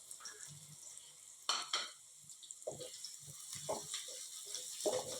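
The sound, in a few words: cumin seeds frying in oil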